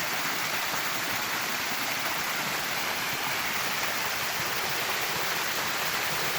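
Roadside waterfall at Fern Crescent in Golden Ears Park, a steady broadband rush of falling water, fairly faint and even, with no talking.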